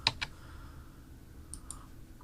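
Two quick, close mouse clicks at the start and a fainter pair a little later, made while working in video editing software on a quiet desk.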